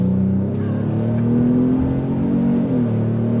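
2025 Ford Explorer Active SUV on throttle, a loud, steady engine note climbing in pitch from inside the cabin, briefly dipping as it shifts near the end.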